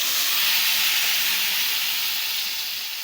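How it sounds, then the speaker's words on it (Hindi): Ground spice paste hits hot oil in a home kitchen, setting off a loud, dense sizzling hiss that starts at full strength and eases slightly over a few seconds. "अब मैं ये ऑयल में डालूँगी।"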